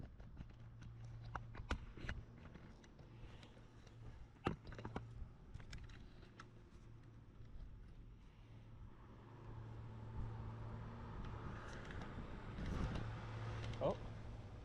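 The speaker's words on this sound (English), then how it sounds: "there's a car coming. That's very loud" A car approaches and swells louder outdoors over a quiet background with scattered light taps and rustles, while a person talks softly nearby.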